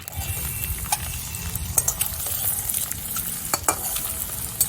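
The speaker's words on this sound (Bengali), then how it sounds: "ডিমের টুকরোগুলো দুটো দিকেই ভালো করে ভেজে নিয়েছি" Pieces of boiled egg fry in oil in a pan for an egg curry, giving a soft continuous sizzle broken by sharp scraping clicks as a spatula stirs and turns them.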